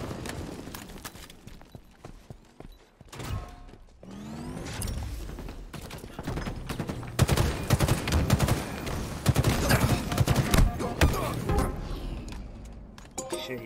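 Rapid bursts of gunfire in the video game Halo Infinite during a ranked Stronghold match, dense overlapping shots building louder toward the end, with announcer callouts and player talk mixed in.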